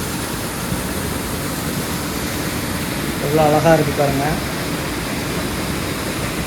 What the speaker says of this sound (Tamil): வானத்துலேருந்து அப்படியே ஒற்ற அருவி வானத்துலேருந்து விழுகிற மாதிரியே இருக்கும்